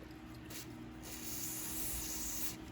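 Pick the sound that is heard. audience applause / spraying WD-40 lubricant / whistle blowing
spraying WD-40 lubricant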